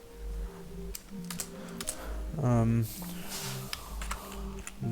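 Fingers tap out Arduino code on a computer keyboard in quick irregular bursts of close clicks, while someone speaks over the typing.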